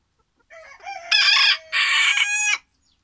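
A rooster crows once nearby, a loud, drawn-out call in several rising and sustained segments, alone with no other sound.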